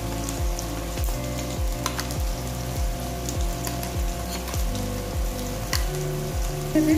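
Chilli chicken paste fries in a wok, a loud, continuous sizzle broken by a regular rhythm of stirring scrapes, with no talking heard.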